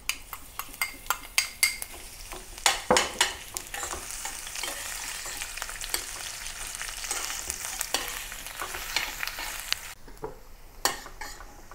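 Sliced onion frying in hot oil with aromatic mustard seeds, a steady crackling sizzle punctuated by sharp clinks and scrapes of a utensil stirring against the pan, no voices.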